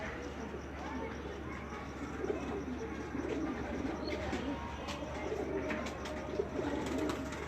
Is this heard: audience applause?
no